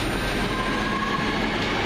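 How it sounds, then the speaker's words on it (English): A Northern Rail train departing Heaton Chapel station on the Crewe to Manchester Piccadilly service, a loud, steady rumble of wheels and running gear with a faint high whine, close by and continuous. "about to leave this side, the 11:32 Northern Rail service from Crewe to Manchester Piccadilly"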